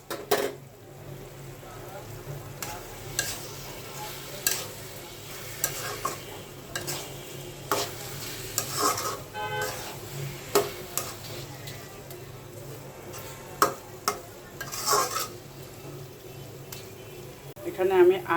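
Ghee sizzles softly in a pan while a spoon stirs and taps against the metal for motichur laddu made from gram flour, with scattered clinks and scrapes throughout.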